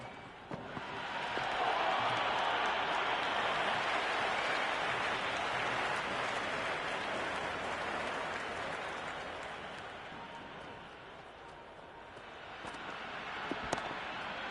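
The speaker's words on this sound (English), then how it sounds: "There's a buzz, a real buzz coming from the stands." Cricket stadium crowd at an IPL match between Chennai Super Kings and Royal Challengers Bangalore, a dense roar of cheering and clapping that rises early, holds steady, then eases slightly before swelling again, heard from within the stands.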